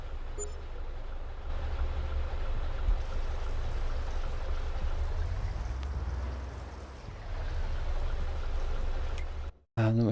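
A steady rushing stream of water fills a container from a garden pump in Farming Simulator 22, a continuous broad hiss that briefly dips, then cuts out near the end.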